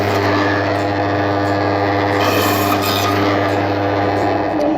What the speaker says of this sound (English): just cut him straight through on the bandsaw